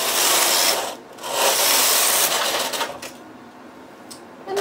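Main carriage of a knitting machine, set up for scalloped edge lace, sliding across the needle bed: a loud continuous rasping rub in two long passes with a brief lull between, then a quieter mechanical clatter.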